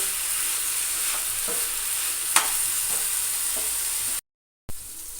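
Red amaranth greens are stirred in a pan over gas, a steady soft sizzle with a few spoon scrapes and knocks, close by, briefly cutting to silence near the end; no one speaks.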